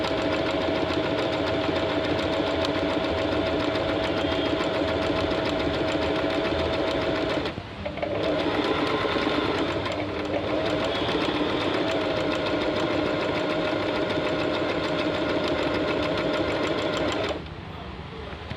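A Singer 3505 sewing machine stitching a hem runs with a fast, steady mechanical whir. It pauses briefly midway, then keeps going until it stops near the end, while a voice talks over it.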